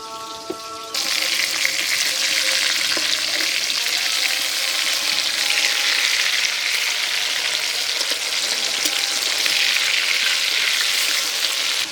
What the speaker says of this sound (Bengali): মাছটা এদিকে ভাজা হতে থাক